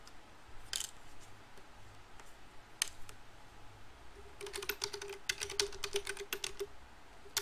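Keys clack on a computer keyboard in scattered taps, then a quicker burst of close, crisp typing toward the end.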